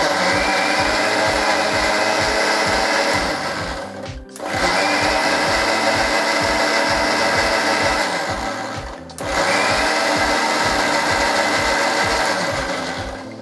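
A blender whirs through a strawberry milkshake of milk and cream, a loud steady motor drone that pulses rhythmically and cuts out briefly twice before restarting.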